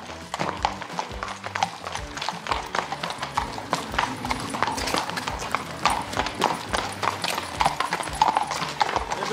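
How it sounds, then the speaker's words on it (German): Hooves clip-clop steadily as Trakehner horses walk on a hard surface at a stallion market, a busy overlapping rhythm, with faint background activity throughout. "Wir bewegen nochmal alle Pferde, damit die sich wieder ein bisschen die Beine vertreten können."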